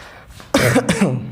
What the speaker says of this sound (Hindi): खांसी हो गई थोड़ी थोड़ी यार, पानी ज़्यादा पी लिया।